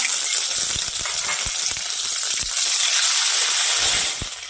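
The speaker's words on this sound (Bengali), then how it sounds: "গোটা জিরে ফোড়ন করে নিচ্ছি।" Whole cumin seeds sizzle in hot oil in a pan, a steady bright hiss with scattered small pops and crackles, close and alone.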